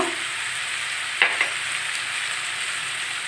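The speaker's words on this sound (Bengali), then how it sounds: "এটাকে এখন ভালো করে ভেজে নেব 1 মিনিট।" Sliced potatoes frying in a pan with salt and turmeric, a steady close sizzle throughout with a brief stirring clatter partway through; no voices.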